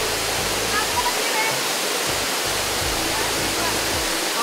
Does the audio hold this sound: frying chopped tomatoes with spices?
no